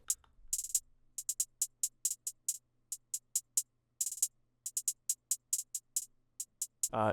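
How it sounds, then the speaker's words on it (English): Sharp, bright hi-hat hits from a trap beat programmed in FL Studio play in an uneven, jarring bounce, with bursts of rapid rolls between sparser ticks over a low steady hum, ending on a brief tonal swell. "This is what the main hi-hat pattern sounds like."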